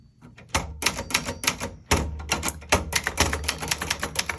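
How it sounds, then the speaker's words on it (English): Brisk typing on a small 1967 Webster XL-500 travel typewriter, sharp clacking keystrokes in uneven quick runs, close up and loud. "Really great travel typewriter."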